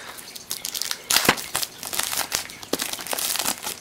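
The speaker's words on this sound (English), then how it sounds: "Plastic is very hard to get off." Thin protective plastic film crinkling and peeling away from a new 2009 iPod Classic 160GB, a close run of crackly rustles and brief tearing bursts for several seconds with no talking.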